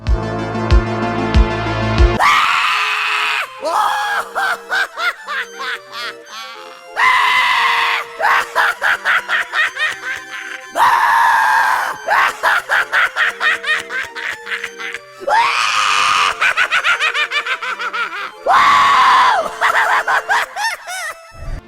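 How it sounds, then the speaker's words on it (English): A Spirit Halloween Poor George animatronic prop plays its recorded audio: loud bursts of manic screaming alternating with cackling, giggling laughter in repeated rhythmic phrases, with a brief tonal intro at the start. "that was some pretty wild screaming and laughter"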